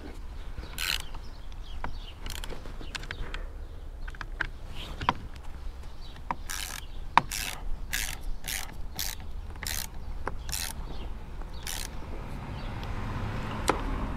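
Bolts on the roof crossbars of a Volvo V50 are tightened with a hand tool, giving a series of quiet, sharp ratcheting clicks and metallic ticks in irregular bursts against a low background hum, with no speech.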